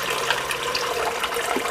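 A small water pump from a window cleaner's backpack runs at about 5 volts and dribbles water out, giving a steady close hiss and trickle with no pauses and no voices.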